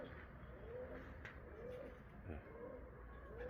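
Soft repeated cooing of an Iraqi tumbler flying pigeon in Algeria, three or four rising-falling calls in a slow rhythm over a quiet low background.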